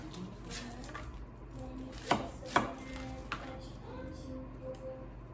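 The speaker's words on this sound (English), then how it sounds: "I'm gonna do is I'm going to cut my onion." Half an onion is cut with a knife in a home kitchen: a few crisp chopping thuds, two of them sharp and close, over a low room hum.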